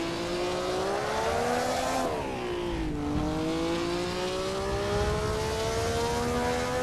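A 1957 Formula 1 car engine in Assetto Corsa, on a historic Argentine Grand Prix circuit at Buenos Aires. The engine holds a loud, close whine, dips briefly as it shifts or lifts, then climbs steadily again, with no talk.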